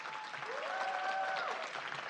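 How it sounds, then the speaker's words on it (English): Audience applause at a school board of education meeting, a steady wash of clapping from a crowd, moderately distant and even throughout. "Please give them a round of applause."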